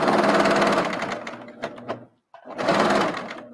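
A serger stitches and trims sweater fabric during upcycling, whirring loudly and close. It slows to a few spaced stitches, stops briefly, then resumes at full speed.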